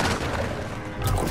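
Burst of machine gun fire from a Call of Duty Warzone match on Rebirth Island, a dense rattle of rapid shots running throughout, loud and close, ending in a heavier low thump near the end.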